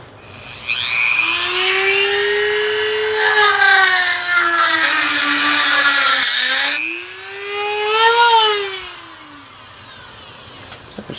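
A rotary tool fitted with a rounded diamond bit whines at high speed as it grinds epoxy off a metal hammer head, its pitch rising and dipping under load in two close, loud bursts.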